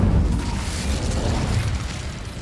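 A fire spell cast in Hogwarts Legacy gives a steady, low, rumbling whoosh of flame that holds for a couple of seconds with a slight burst at the start, with no talk over it.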